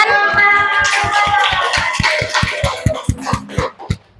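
A classroom group claps together after a student presentation, a quick, even run of sharp claps that slows and thins toward the end.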